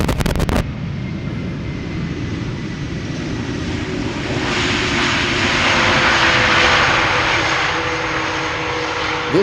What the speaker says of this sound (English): This, by the way, Delta Airlines Flight 74, A330-300, having arrived from Atlanta, Georgia.